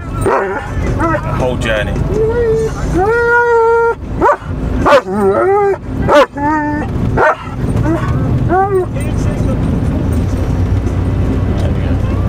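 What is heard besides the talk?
dog barking from a van window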